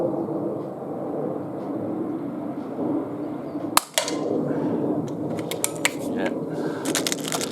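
An NTK Buster .22 pneumatic air pistol fires a single sharp crack outdoors, quickly followed by a series of small ticks and rattles against a low background hum.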